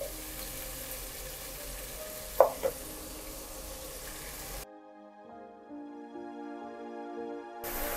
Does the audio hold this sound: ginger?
yes